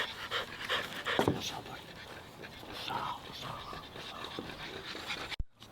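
A French bulldog pants in quick, rhythmic breaths close by, with people talking over it.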